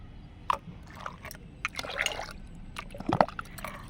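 Aloe vera gel is poured into a homemade garden mixture with curd, giving scattered wet drips, plops and squishy liquid sounds at close range, with no talking over them.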